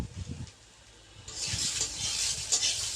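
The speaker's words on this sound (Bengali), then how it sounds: "শুকনো কড়াইতে এটা একটু নেড়ে নেবে, ভালো করে নাড়বে" Food is stirred in a dry, hot kadai with no oil: a few soft knocks come first, then a close, steady scraping hiss as the spatula moves.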